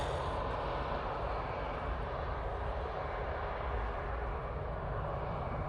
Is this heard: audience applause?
no